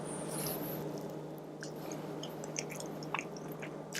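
Someone chews cornbread topped with butter and raspberry key lime jelly, making faint, close, soft moist mouth sounds over a low steady background hum.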